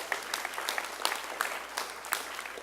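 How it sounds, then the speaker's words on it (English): An audience at a school board meeting claps steadily in a dense, even patter of applause, moderately close, with no talking over it. "So if we could all give them a round of applause,"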